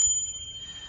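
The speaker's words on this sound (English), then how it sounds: "gorgeous little bell going down into the clapper, and it really does sound" A small decorative bell for hanging in a garden gives one bright ring, its clear high tone sustaining and slowly fading alone.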